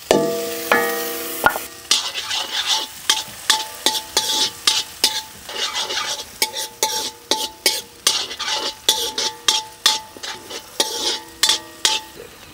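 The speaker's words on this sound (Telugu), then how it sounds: "ఇదంతా ఒక 5-6 నిమిషాల పాటు బాగా వేయించుకుందాం." Capsicum and vegetables for veg Manchurian stir-fry in a pan, a soft sizzle under repeated sharp scrapes and clinks of a metal spatula stirring in a steady, near rhythm.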